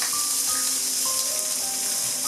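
Ginger garlic paste sizzles and fries in a pan for chicken korma, a steady, loud, even hiss with faint tonal hum underneath and no talking.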